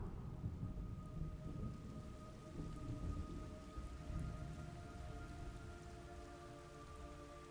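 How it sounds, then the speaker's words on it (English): Steady rain pours in the Metal Gear Solid Delta video game, with a deep rolling rumble of thunder underneath and a faint sustained tonal hum, continuous and even throughout with no talking. "It's raining blood."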